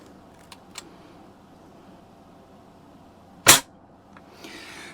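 A single sharp crack from a Daisy 120 pellet rifle shot hitting a pumpkin outdoors, loud and brief, preceded by faint clicks and followed by a soft rustle over quiet background.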